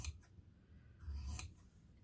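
Scissors snip through extra fabric while trimming a frock coat, with a few faint close cuts and one louder crisp cut midway, no talking.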